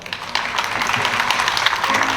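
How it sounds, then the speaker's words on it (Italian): Audience applause for Franco Del Moro, a philosopher, musician and writer, at a talk at Villa Breda; a dense, steady wash of clapping from a crowd that holds for a couple of seconds. "Quindi un applauso a Franco Del Moro"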